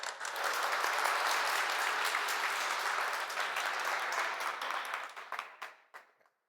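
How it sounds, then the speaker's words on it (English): Audience at a student flash-talk session giving a presenter a warm round of applause, dense continuous clapping that thins into a few scattered final claps before ending. "let's give him a warm round of applause"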